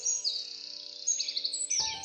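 Birds chirping in a forest, a run of bright, high twittering calls that overlap against a steady tonal hum, with a brief rustling burst near the end.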